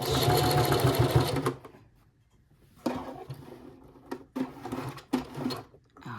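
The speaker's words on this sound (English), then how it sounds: "I'm gonna back stitch" Sewing machine back stitching through a tote bag: a steady loud run of stitching, then a pause, followed by several shorter bursts of stitching with brief stops between.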